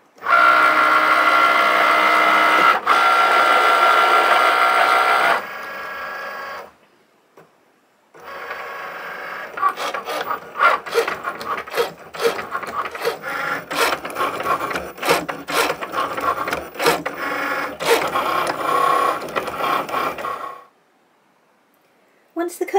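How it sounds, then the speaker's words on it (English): An electronic cutting machine cuts cardstock with a whirring motor and rapid ratcheting, scraping passes in bursts separated by brief pauses, close and fairly loud, with a person speaking at moments. "Let's hit that button and now the machine will start the cut."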